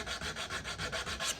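Close, rhythmic back-and-forth sanding strokes on a wooden guitar neck dovetail, about seven even rasping passes in quick succession with no voices.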